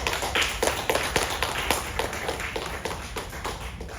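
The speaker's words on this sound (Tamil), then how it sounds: "அதுக்குவே நீங்க நல்லா கைத்தட்டுங்க" An audience claps at a Singapore National Day Tamil debate event, a dense burst of applause that starts loud, stays close and fades slightly toward the end.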